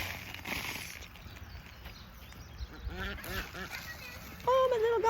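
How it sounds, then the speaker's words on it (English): Free-ranging ducks, kept alongside chickens on a flower farm, give a few short nasal quacks near the end, over steady outdoor background noise with a faint voice present. "look at my ducks. Let's see. They're free-ranging happy ducks and chickens"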